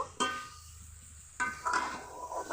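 Chicken and fried potatoes are sautéed for biryani with a faint, soft sizzle, broken by two brief scraping stirs of a utensil in the pot, with no talk.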